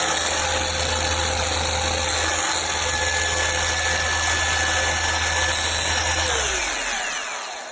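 An SPTA 20V cordless car polisher spins at top speed with a loud, steady high whine close by, then winds down as it is switched off near the end.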